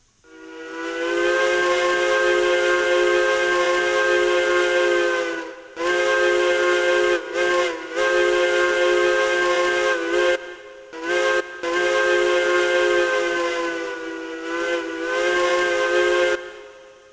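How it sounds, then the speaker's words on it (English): A loud, steady three-chime train whistle in a video game with rich harmonic tones, sounded in several long blasts and a few short toots separated by brief gaps. "let us get a nice whistle test of this beautiful 3 chime"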